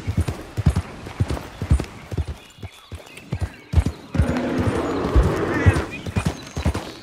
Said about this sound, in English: avoid the pain of having to slog through more horse riding